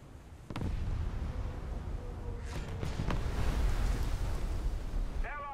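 Warship secondary guns fire in a naval video game, a dense string of sharp bursts and booms over a steady low rumble of battle noise, with a fainter crackle near the end.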